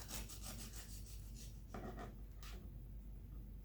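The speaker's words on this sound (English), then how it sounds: "You can hear the crispiness of going through the top crust." Quiet, rhythmic rasping strokes of a knife sawing through the crunchy top crust of warm pumpkin bread, a series of short scratchy cuts close by with no talking.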